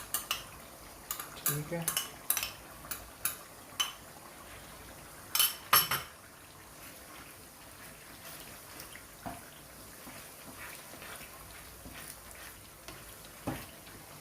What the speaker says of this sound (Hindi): अब मैं इसमें डालूँगा अदरक और लहसुन का पेस्ट